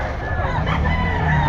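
A sweater gold gamefowl rooster crows at the Bocaue pet market, one loud, close call over busy market background noise.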